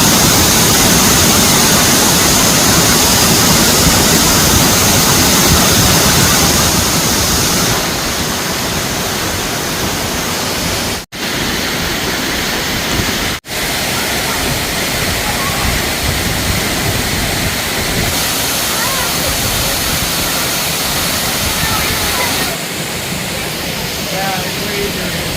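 Dinkey Creek waterfall pours in a loud, continuous broadband roar, steady throughout with only a couple of momentary dips.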